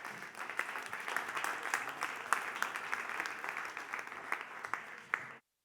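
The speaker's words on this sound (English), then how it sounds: "Please give them a big round of applause" An audience at a conference session claps steadily for about five seconds, dense and even, before the applause cuts off abruptly.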